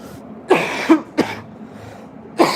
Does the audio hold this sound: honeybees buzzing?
no